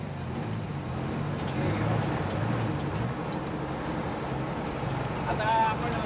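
A truck engine with a fault rumbles low and continuously, close by on a mountain route, while people talk over it.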